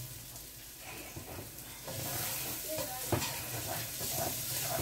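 Guyanese-style curry pork frying in plenty of oil as it is stirred, a soft continuous sizzle with scraping stir sounds, fairly quiet and growing a little louder partway through.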